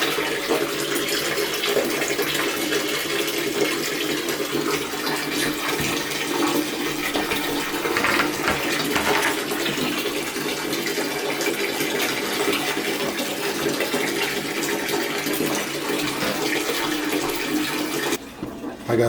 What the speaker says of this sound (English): we'll let this water run in, and then we'll be back with cleaning the window area.